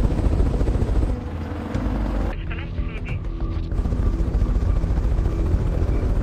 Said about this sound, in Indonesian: helikopter Apache sudah tiba di lokasi